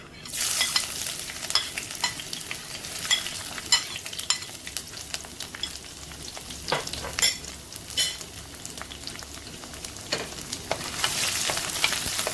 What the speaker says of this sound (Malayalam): അതേപോലെ തന്നെ വെളുത്തുള്ളി ഞാനൊന്ന് കട്ട് ചെയ്തിട്ടുണ്ട്. നമുക്ക് ഇട്ട് കൊടുക്കാം.